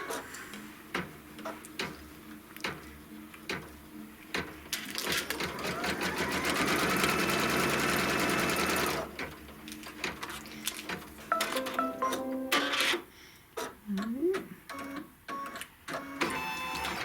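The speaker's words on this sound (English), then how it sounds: "we're going to put it back on the machine, and it's going to stitch the seam line." A sewing machine stitches a seam line, fast rhythmic ticking giving way to a steady dense whir lasting several seconds, then slowing into separate ticks and short bursts, moderately close with no talk.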